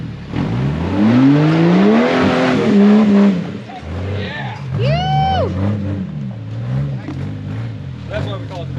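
An off-road vehicle's engine revs hard in a ponderosa pine forest, climbing in pitch and then holding against the rev limiter, loud and close, before dropping back to a rumbling idle while voices talk nearby.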